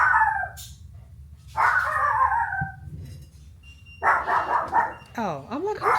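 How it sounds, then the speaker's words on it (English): A dog barks in sharp bursts several times, a few seconds apart, with people talking in between. "Oh, I'm like, who's she barking at?"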